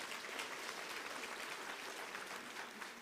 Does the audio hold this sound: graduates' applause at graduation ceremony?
yes